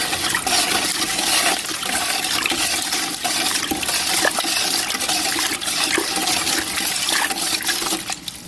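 Turkey brine of salt and brown sugar stirred in a pot, a continuous loud sloshing, swirling liquid rush with small clinks, steady and close with no talking.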